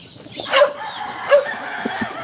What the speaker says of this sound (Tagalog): kitang-kita nyo na may mga manok